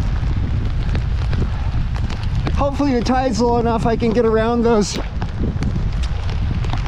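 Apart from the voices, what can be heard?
wind and rain on a beach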